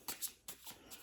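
Cards for the One Last Score board game being shuffled by hand, a quick burst of soft riffling and sliding strokes, close and quiet.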